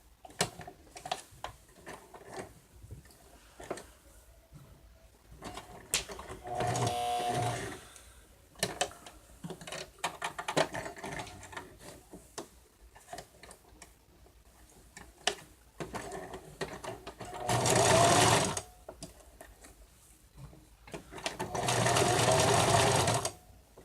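A sewing machine stitching the face pieces of a stuffed bear, running in several short close bursts of rapid, rhythmic needle clatter separated by quieter handling noises and pauses.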